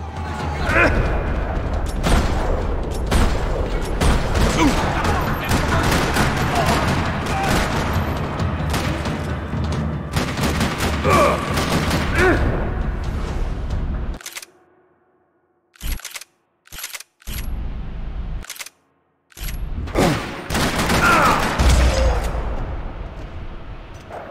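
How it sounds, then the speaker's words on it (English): Dense, continuous rapid gunfire in a parking lot in the video game Max Payne 3 rattles for a long stretch, loud and chaotic, then breaks into short silent gaps with a few more bursts. "Another parking lot rattling with gunfire."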